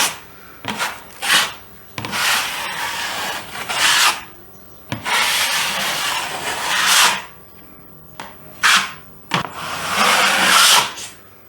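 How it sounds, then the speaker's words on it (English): Trowel scraping a skim coat of compound across a textured wall, heard as close, loud rasping strokes in repeated sweeps of a second or two each, separated by short pauses, with no talking. "I'm going to side trowel as much of this as I possibly can to try and knock them out"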